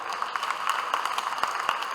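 Audience applause at a national poets' gathering in a pavilion at a historic fair, a steady wash of many hands clapping with scattered sharper claps standing out, continuous and moderately loud.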